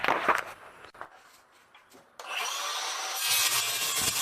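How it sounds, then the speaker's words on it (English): Sawing pressure-treated 4x4 lumber held in a vise on a work cart: a few scraping strokes at first, a quieter pause, then a steady loud rasping cut up close. "Here I'm cutting a pressure treated 4x4."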